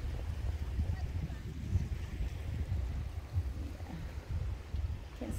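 Wind buffets a boat deck at sea, a low gusty rumble pressing on the microphone, with faint water wash underneath and no clear talk.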